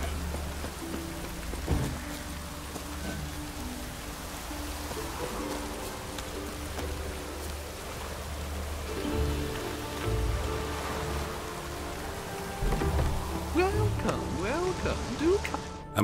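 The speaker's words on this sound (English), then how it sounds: "Even the rain smells like fish in this town." Steady rain falls over a fishing town in The Witcher 3, a soft constant patter beneath low ambient tones, with a few bird calls and a voice speaking briefly.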